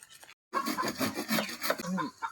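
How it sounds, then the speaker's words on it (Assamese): A blade chops and rasps through a bamboo stalk outdoors, giving repeated scraping, woody cutting strokes after a brief silence, close and fairly loud. "মই বাঁহটো কাটি লওঁ"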